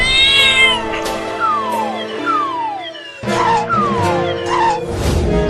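A cat meows repeatedly in close, loud, drawn-out calls that rise and fall in pitch, several overlapping cries in quick succession with no talk.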